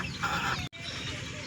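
A Sonali hen clucking close by in a brief burst of throaty calls, broken by a short cut partway through before the clucking resumes.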